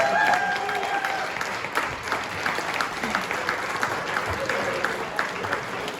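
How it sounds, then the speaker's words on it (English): Audience at a golf foundation dinner applauding, a dense sustained clapping that stays steady for several seconds, with a murmur of voices mixed in. "Let's give them a round of applause."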